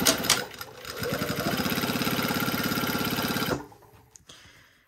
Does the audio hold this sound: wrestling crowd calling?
no